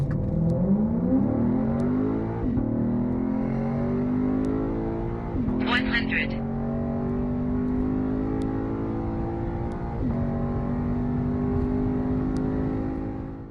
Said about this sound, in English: now let's check the acceleration of our car from 0 to 100 and, of course, from 100 to 200 kilometers